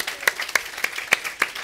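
A handful of distinct claps during an interview, sparse and irregular, a few close hand claps spaced across a moment rather than a full round of applause.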